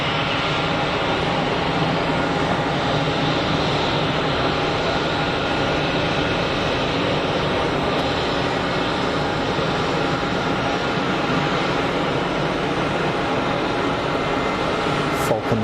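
Broad, steady jet-engine rumble rolls on from an aircraft taxiing at Geneva Airport, a continuous roar heard from a distance with little change over time.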